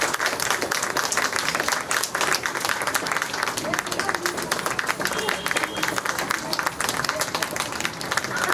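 Steady, dense applause from a crowd at a school annual day function, many hands clapping continuously at an even, loud level without a break.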